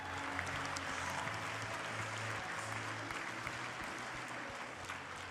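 Sustained applause from an audience at a masquerade charity gala honoring donors, a steady dense wash of clapping with faint crowd murmur beneath, continuing evenly throughout.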